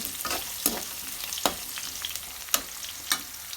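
Onion, green chilli and tomato frying in a pan for upma, a steady close sizzle with a few sharp stirring scrapes spaced through it, no voices.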